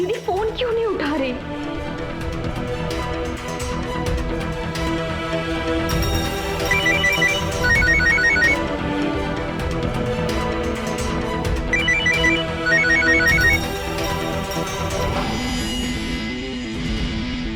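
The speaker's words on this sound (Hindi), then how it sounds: "किसका फोन बज रहा है यार?" A phone's ringtone plays in two short repeating bursts midway, partly buried under continuous background music and talk.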